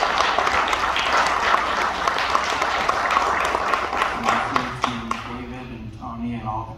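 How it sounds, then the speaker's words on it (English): At a Bellevue University music event, an audience gives a round of applause for the performing artists, dense clapping that thins out after about five seconds as a voice begins speaking over the fading claps. "give another round of applause to the wonderful artists who just shared their talents"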